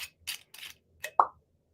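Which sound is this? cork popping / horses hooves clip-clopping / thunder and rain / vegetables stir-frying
cork popping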